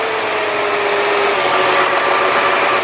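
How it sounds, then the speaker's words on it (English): A Nissan GT-R idles in neutral, its engine humming steadily up close, with faint clunking from the drivetrain in the mix. "with the car running again, you can hear some drivetrain clunk while it's in neutral."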